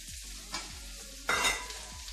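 Onion and capsicum stir-fry in a hot pan for chilli chicken, with a low sizzle and two bursts of scraping stirs, close up and with no voices.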